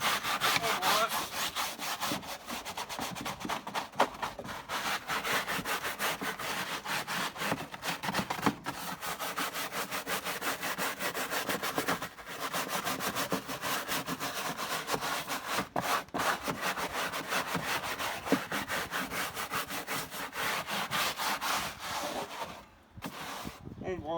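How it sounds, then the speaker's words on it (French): A brush scrubbing cleaning product into the interior of a Citroën C3 car, a continuous rapid back-and-forth rasping scrub, close and steady for the whole stretch, ending with a brief pause. "On brosse."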